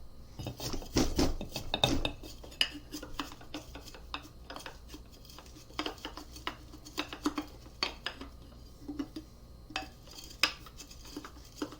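Makeshift pestle and mortar grinding for tincture making: repeated clinks and scraping knocks of hard utensils, a dense cluster early on, then scattered taps and rubs close by, with no talking.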